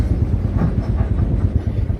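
A Hazira train rumbles steadily nearby, a dense low rolling drone with faint rhythmic pulsing throughout, heard without any talk.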